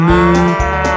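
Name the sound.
cow mooing in a children's song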